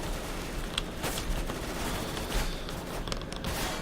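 Quick bursts from an MP7 submachine gun in Counter-Strike: Global Offensive crackle fairly quietly over game background noise, with a few sharper shots near the end.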